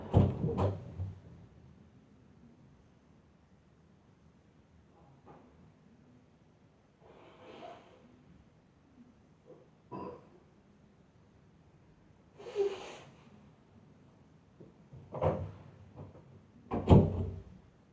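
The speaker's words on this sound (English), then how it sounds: "I really had to blow my nose." A person blows their nose several times in short, forceful bursts, close by, with quiet gaps between the honks.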